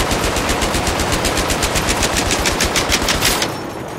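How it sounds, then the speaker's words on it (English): A mounted machine gun in Battlefield 3 fires a loud, unbroken rapid burst until it overheats, then the shooting cuts off abruptly, leaving a lower hiss. "Let's overheat this gun just so you can hear it."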